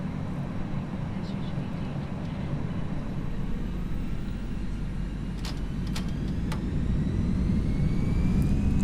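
Airbus A319 jet engines throttling up in the X-Plane 11 flight simulator: a steady, loud, broad engine roar that swells slightly toward the end, with a few brief clicks over it.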